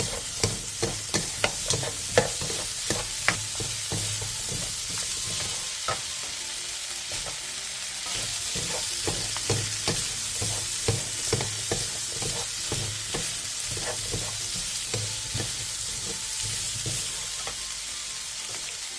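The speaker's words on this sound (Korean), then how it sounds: "소세지에 칼집이 다 벌어졌으면 굴소스 1스푼 반, 다진 마늘 3분의 2스푼, 브로콜리를 넣고 중불에서 1, 2분 정도 더 볶아주세요." Sausages stir-fried with oyster sauce, minced garlic and broccoli over medium heat hiss in a steady sizzle, punctuated by frequent sharp scrapes and taps of a utensil against the pan, with no talking.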